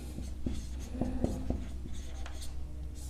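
Pen or chalk writing during a Class 10 maths lesson on coordinate geometry, with short scratchy strokes and taps clustered near the start over a steady room hum, no talking.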